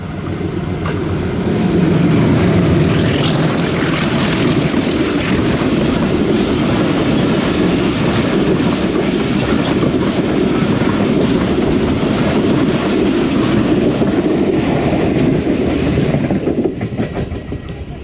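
The Pakistan Express, led by locomotive PH28307 from Karachi to Rawalpindi, roars past Dumeli railway station on the main line with loud, sustained wheel clatter that fades slightly at the end.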